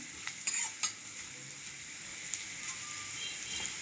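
Asafoetida and dal frying in a cooking pan for a moong dal cabbage fry, a steady close sizzle with a few brief clicks of stirring near the start.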